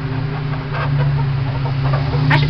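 Chickens clucking in a coop, several birds close to the mic giving short repeated clucks over a steady low hum.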